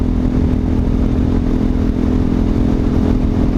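A steady, loud Hawk 250 motorcycle engine drones continuously at an even pitch while riding, with wind and road rumble, no voices.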